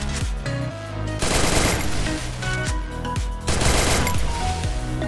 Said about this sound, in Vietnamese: và mình bắn tiếp nha